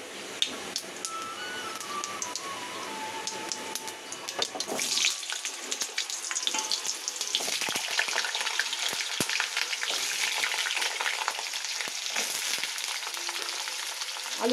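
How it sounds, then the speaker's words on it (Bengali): Potatoes fry in hot oil tempered with whole cumin seeds. The sizzle starts moderate and swells into a loud, steady crackle after a few seconds, with occasional stirring scrapes and no talk over it. "ফোড়নের পরে দিয়ে দেবো আমি আগে আলুটা।"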